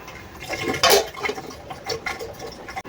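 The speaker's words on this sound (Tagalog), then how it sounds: "Lagyan natin siya ng tubig." Water is poured into a cooking pot of halved corn in a home kitchen, a short splashing fill that peaks briefly and settles into faint trickling and clinks.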